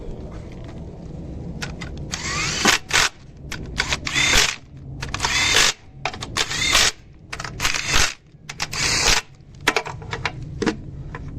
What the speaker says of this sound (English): Now I gotta tighten all the 12mm bolts.